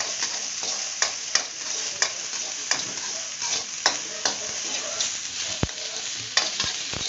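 Garlic and onion being stirred in a frying pan for a flounder dish, steady sizzling with repeated sharp scrapes and taps of a utensil against the pan, close by and without speech.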